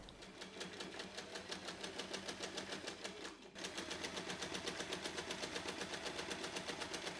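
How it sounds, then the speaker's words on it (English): An electric sewing machine top stitches a pocket onto a colour block tote bag, running steadily with a fast, even needle chatter. It pauses briefly midway, then resumes at the same close, continuous pace with no talking. "top stitch around the pocket to secure it"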